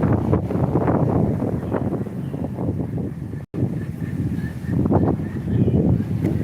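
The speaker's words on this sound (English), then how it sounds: "I know it's windy, and I apologize" Strong wind buffets the microphone outdoors in a garden, loud gusty rumbling that swells and dips, with a brief dropout midway.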